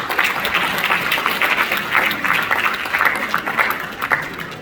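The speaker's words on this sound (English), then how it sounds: "Can we give him a round of applause," Steady round of applause from a conference audience at an Africa Day celebration at FEFU, a dense continuous patter of many hands at even loudness, no voices standing out.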